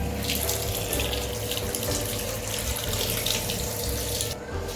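Tap water pours steadily into a container being filled at home, a strong continuous splashing rush that stays even for several seconds before briefly dipping at the end; no one speaks.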